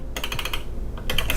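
Keys tapped on a computer keyboard to name a fader on a lighting control desk, two short bursts of close, crisp clicks separated by a brief pause, with no talking.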